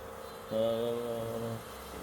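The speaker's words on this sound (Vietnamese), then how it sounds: "tình trạng mình nghe cái tiếng quạt nó" Cooling fan inside a faulty Bluestone or Kangaroo induction cooktop that cuts out after running a while, starting abruptly and droning with a rough, tonal hum for about a second before stopping.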